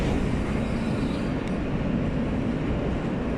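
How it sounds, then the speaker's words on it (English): A New York subway L train heading to Broadway Junction rumbles along the track, giving a steady, dense roar inside the car with no talking. "Right now on an L train heading to Broadway Junction"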